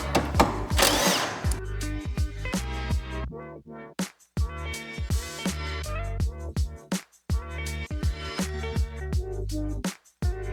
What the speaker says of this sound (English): Make sure you're using the chrome impact sockets.